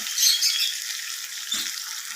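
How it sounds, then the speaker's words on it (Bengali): Fried potatoes being stir-fried into an oily, cooked-down spice paste for an egg curry: a steady high sizzle, louder at the start, with one soft spatula scrape partway through. "তো দেখুন আলুগুলোকে আমি মশলার সাথে এবার আমি কষিয়ে নেব ভালোভাবে"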